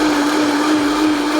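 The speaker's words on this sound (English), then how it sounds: "I'm going to turn this blender back on" A blender whirs at full speed through tomatoes, a loud, steady motor drone with a strong low hum and a gritty churning hiss, close up and uninterrupted.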